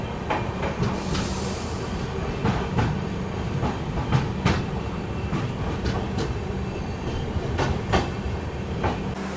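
A train arrives at Rangapara North railway junction in India, rolling along the tracks with a steady rumble and rhythmic clickety-clack of wheels over rail joints, loud and close.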